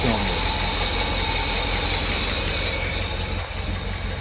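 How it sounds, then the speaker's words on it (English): Mercedes 380SL engine misfiring on seven cylinders, a steady loud droning idle with a rough mechanical hum throughout, heard up close with no talk. "And this is only running on 7 cylinders."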